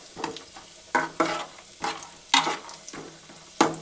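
Raisins fry in hot ghee in a pan, a soft bubbling sizzle punctuated by about six rhythmic scraping strokes of a spoon stirring, fairly close and moderately quiet, with no voices.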